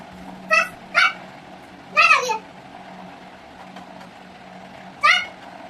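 A cat meows four times, short and fairly close, with pauses between calls against a quiet background hum.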